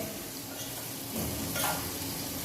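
Ghee heats in a pan with a soft, steady sizzle and faint crackle, close but quiet against a low background hiss, with no talking.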